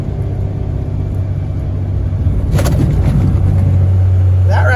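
A hay-hauling truck on an Oklahoma road downshifting to fifth gear: a deep, continuous engine rumble in the cab that swells and roughens midway as the transmission drops a gear, then settles into a steady drone.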